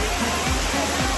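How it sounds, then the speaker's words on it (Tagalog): Waterfall at Queen Elizabeth Park in Vancouver, British Columbia, a steady broadband rush of falling water that stays constant and close through the short stretch, with no other sound standing out. "enjoy the waterfalls behind me"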